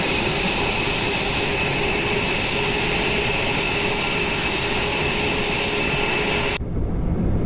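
Large airplane engine in the VRChat video game, a loud, steady roar with a constant hum that holds throughout and then cuts off abruptly near the end, leaving near silence.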